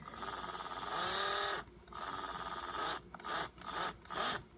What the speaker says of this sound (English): And now I'm going to reverse the drill.